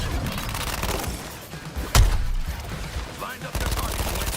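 Gunfire aimed at incoming enemy ground troops in the video game Arkham, with one loud shot near two seconds and a steady rattle of shooting on either side, mixed with other game noise.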